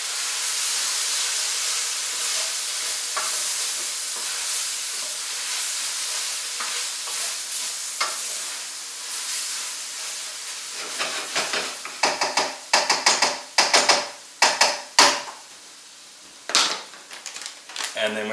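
Diced tomatoes stirred into curry in a pan with the heat turned off, a soft steady hiss and sizzle giving way to clattering scrapes and knocks of a utensil against the pan.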